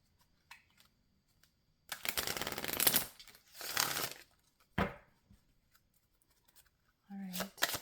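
Tarot cards are shuffled by hand in short riffling bursts, a few seconds of crisp flapping separated by quiet gaps, close and fairly faint, with brief soft sounds in between.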